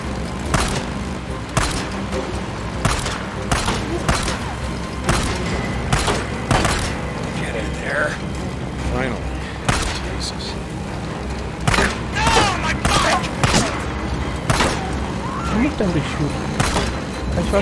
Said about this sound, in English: To shoot while you're on a bike, tap this, just acquire a target and press this to fire